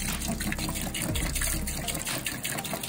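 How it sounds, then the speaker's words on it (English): Distilled water pours steadily into a container for humidifying a comic, a continuous close, full splashing gush running through the whole stretch without a break. "You're gonna want distilled water. And I just pour like about a quarter of this in there."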